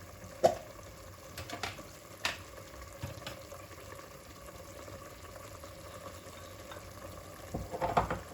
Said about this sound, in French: Je vais laisser mijoter